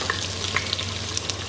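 Cinnamon and cardamom fry in hot oil in an Instant Pot for veg biryani, giving a steady close sizzle with scattered crackles and pops over a low constant hum.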